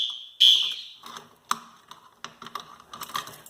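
A newly installed Simplex fire alarm system under test gives a short, loud, high electronic tone, followed by scattered clicking and rattling mechanical sounds nearby indoors.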